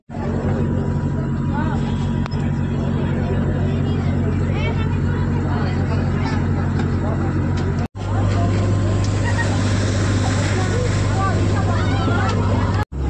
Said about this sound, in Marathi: बघू शकता मित्रांनो आता आपली बोट चालली आहे